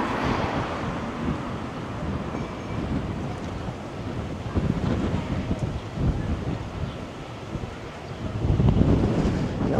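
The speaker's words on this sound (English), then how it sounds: "Now we're getting some proper wind here." Strong wind buffets the microphone outdoors on a city walk through the University of Toronto campus, a steady low roar with gusts swelling louder toward the end, with no other clear sounds.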